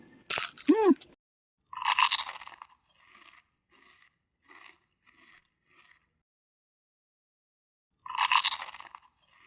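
Someone bites into crisp fried milkfish lumpia, giving loud, close crunches, with quieter chewing in between and another sharp crunching bite near the end.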